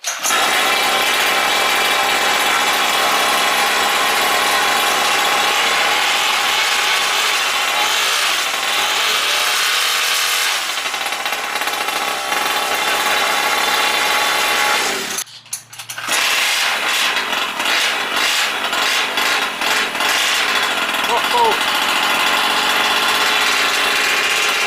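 A small engine in a Primal RC Raminator RC car, upgraded with a TMR performance engine, runs steadily with a buzzing, whining drone, briefly cutting out midway before roaring back with rattly, fluctuating revs.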